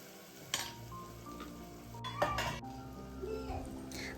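Onion and spice paste frying in a pan in a home kitchen, a steady soft sizzle with occasional clinks of a utensil, while a voice talks over it and a cat meows faintly.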